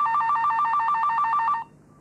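A landline telephone rings with a rapid trilling electronic bell in repeated bursts, loud and close, for about a second and a half before cutting off into quiet room tone.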